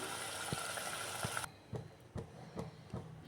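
Water poured into a pot of paruppu urundai kuzhambu curry, a loud continuous rushing pour that stops abruptly midway, followed by soft bubbling and a few light knocks and clinks.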